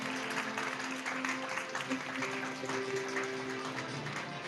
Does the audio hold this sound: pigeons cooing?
no